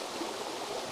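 A waterfall and a flowing stream pour over boulders, making a steady, dense rushing wash that stays close and constant throughout with no voices over it.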